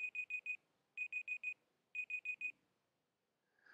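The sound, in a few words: timer alarm going off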